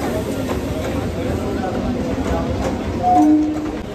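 A local train pulls out of Lakshmikantapur station toward Namkhana, its steady rolling rumble heard from on board with a faint murmur of passengers and a brief high squeal near the end.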